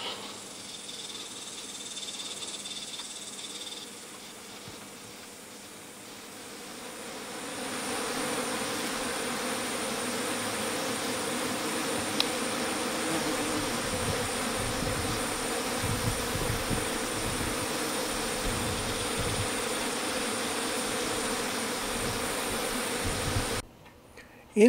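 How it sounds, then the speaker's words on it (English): Bees buzz around blooming Texas purple sage outdoors, a steady dense hum that starts faint and grows fuller, continuing at a moderate level without speech. "The bees go crazy over it."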